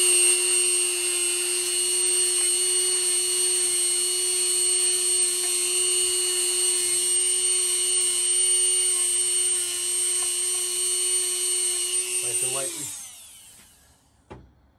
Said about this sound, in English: This is just a little baby wire wheel.